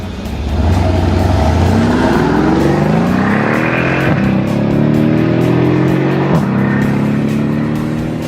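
A 2013 Mercedes-Benz SL63 AMG Roadster launches hard from a standstill, its engine note climbing through several rising gear pulls with brief dips at each shift, loud and close with no talking.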